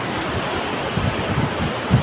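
Rushing water at Ramanakatte waterfalls, a steady broadband roar with a few low surges, heard alone without talk.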